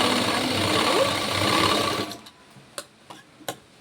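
A sewing machine runs steadily while stitching a thick-fabric blouse, a continuous close whir for about two seconds that stops abruptly, followed by a few short clicks and taps.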